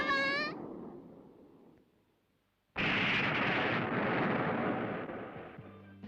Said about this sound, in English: A non-animated explosion effect.